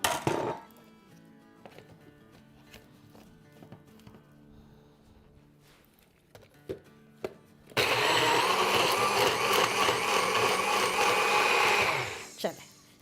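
After a stretch of quiet kitchen clatter, a blender roars to life, grinding soup made with chicken broth in a loud, steady whir for several seconds before cutting off abruptly.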